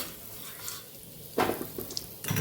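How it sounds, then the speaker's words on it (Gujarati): Asafoetida dropped into hot oil for tempering gives short bursts of sizzling and crackle over a low background hiss, close and moderately loud, with brief clattering in between. "અહીંયા આપણું તેલ સરસ ગરમ થઈ ગયું છે, તો થોડી હિંગ ઉમેરશું"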